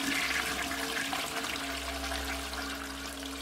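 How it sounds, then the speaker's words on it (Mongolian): A toilet flushes in a restroom at the end of a corridor, a continuous rushing and gurgling of water that fades slowly, heard alone and fairly soft. "мухрын нойлын өрөөнд ус татах чимээ сонсогдсон"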